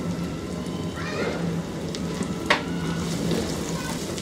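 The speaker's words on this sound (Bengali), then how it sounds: "তার মধ্যে গাজরের কুচিগুলা প্রথমে ভেজে নিব" Chopped carrots and garlic fry in oil over medium heat, a close, dense sizzle with scattered pops and a few stirring scrapes throughout.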